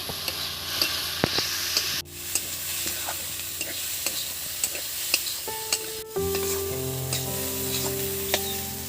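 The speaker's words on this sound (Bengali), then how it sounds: "অল্প একটু হলুদ দিয়ে দিচ্ছি অল্প সামান্য এবার এটাকে একটু নেড়ে চেড়ে নেবো" Lentil masala for masoor dal sizzles steadily in a pan with turmeric added, while a spoon stirs through it in repeated scrapes and light clicks, close and fairly loud, with no talking.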